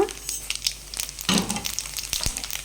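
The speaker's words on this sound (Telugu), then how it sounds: "ఆయిల్ అయితే కాగిందనమాట స్టవ్ తగ్గించేసి ఇప్పుడు ఫస్ట్ ఆవాలు అయితే వేస్తున్నాను తర్వాత జీలకర్ర" Mustard seeds and cumin seeds sizzle and crackle in hot oil on a turned-down stove, a quiet, close spitting and popping with scattered sharp crackles.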